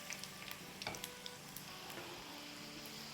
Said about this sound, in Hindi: बहुत जल्दी ये फ्राई हो जाते हैं।